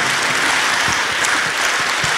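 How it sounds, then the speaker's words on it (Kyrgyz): Dense, loud audience applause at a stage anniversary concert marking 20 years on stage, steady clapping filling the hall throughout. "Кол чабуулар болсун."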